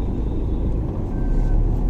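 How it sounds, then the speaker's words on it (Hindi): Heavy road traffic on a highway between Mumbai and Goa, where construction work has slowed everything down: a steady low rumble of engines and passing vehicles throughout, with a faint whine and no talk. "बहुत ज्यादा ट्रैफिक है।"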